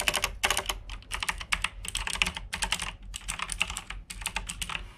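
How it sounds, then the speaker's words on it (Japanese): Rapid clacky typing on a Logitech tenkeyless mechanical keyboard. The keystrokes come in quick bursts with brief pauses between them, close and crisp. "メカニカルキーボードですね。"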